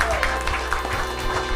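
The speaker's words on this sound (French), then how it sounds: "Brenda Forrester, on peut l'applaudir." An audience claps at a live show in a hall at La Mécanique Ondulatoire, with dense, steady applause close by and no break.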